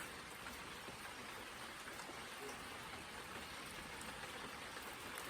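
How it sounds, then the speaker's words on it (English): Rain falling on a rainy Sunday, a soft, continuous hiss of drops that stays faint and even throughout, with no voices. "I'm just enjoying this rain that somehow seems to connect me with the sky and the earth."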